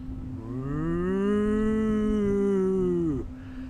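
A human voice imitates a haunted ghost noise, a sustained wavering moan held for about three seconds before dropping off, loud and close with no other sound.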